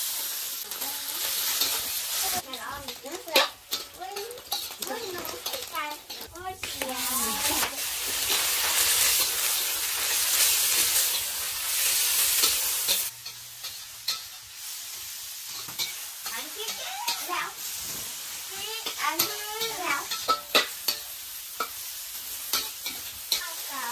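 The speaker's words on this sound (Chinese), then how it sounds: "下锅起油" Pork, chili and green vegetables stir-fry in a hot wok, with loud hissing sizzle surging as food hits the oil, spatula scrapes and clatters, and voices talking intermittently over the cooking.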